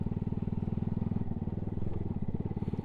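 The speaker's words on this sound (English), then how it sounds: "Now the engine sounds different, but that'll probably be the exhaust." A Triumph Daytona 675 motorcycle engine and exhaust throb at a fairly steady, rapid pulse, close and moderately loud, with no talk over it.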